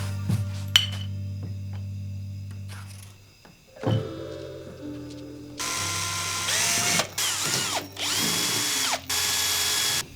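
A power tool drives screws into metal threads set in plastic on a camper van conversion, first a low motor hum, then several loud whirring bursts with short gaps and ratcheting clicks, close and alone.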